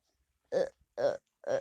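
Three short, loud burps come in quick succession, evenly spaced with silence between them and no speech.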